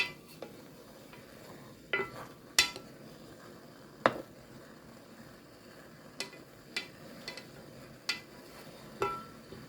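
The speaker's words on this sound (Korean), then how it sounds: "간장이 끓어오르는 동안 수저로 계란을 굴려가며 간장색을 입혀줍니다." Eggs are rolled with a metal spoon in boiling soy sauce, giving quiet, scattered clinks and taps against the pot every second or so over a low simmering background.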